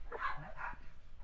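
A dog gives a faint bark or yip once or twice, heard alone and from some distance indoors.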